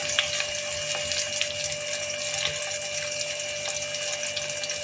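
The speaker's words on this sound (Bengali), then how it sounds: "আর একটু জল দেব এর সাথে। একটু জল দিয়ে দিলাম।" Water is poured steadily into a cooking pot for prawn biryani, a continuous close splashing stream with no talking.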